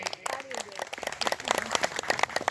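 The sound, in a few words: applause, people clapping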